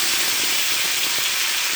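Sweet pumpkin pieces dropped into a hot pan for a vegetarian dish, a brief continuous hissing sizzle, close and fairly loud.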